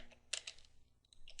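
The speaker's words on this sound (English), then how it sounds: "We'll type in grep," A grep command is typed on a computer keyboard: a short burst of a few quick, light key clicks, close and faint, with a brief pause between them and no talking.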